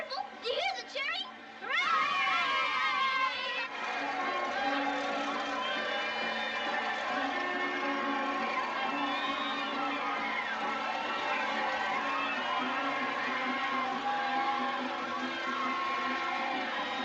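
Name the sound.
crowd cheering in the street, from a 1939 film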